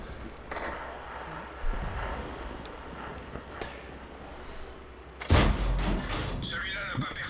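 Tank guns fire shells in World of Tanks, the Object 244 at tier 8, with sharp booming reports, the loudest one late, against a rumbling engine and ambient game noise.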